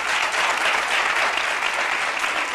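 Dense, steady applause from a studio audience on a Spanish-language talk show, a full continuous wash of clapping that stays loud and even throughout with no voices standing out.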